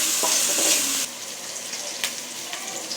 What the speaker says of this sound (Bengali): পেঁয়াজগুলো একটু ব্রাউন কালার আসা পর্যন্ত অপেক্ষা করব। 1 চামচ আদা রসুন বাটা দিয়ে দিব।